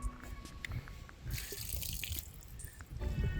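Water trickles and gurgles as it drains from a caravan sink outlet through improvised plumbing, a steady faint flow with a brief louder rush in the middle, alone with no talk.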